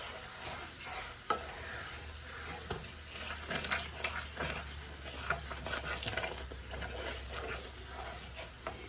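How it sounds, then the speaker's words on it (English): Flour frying in a pan and being stirred for a Southern pork chop dinner, a soft continuous sizzle with scattered scraping clicks and taps, fairly quiet and close. "And stir it around. You don't want to have that raw flour taste."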